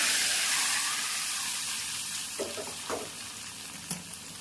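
A hot tempering of spices and oil poured into peanut gojju, giving a loud hissing sizzle at the start that gradually fades, with a few soft clinks and stirring taps toward the end.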